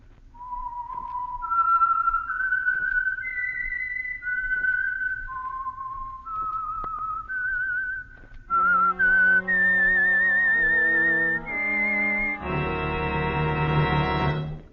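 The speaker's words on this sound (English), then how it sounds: "the signal to listen for is this whistle" A lone whistler carries a slow, eerie melody of held notes, the theme of the radio program The Whistler, then a full orchestra swells in with the same theme, loud and close.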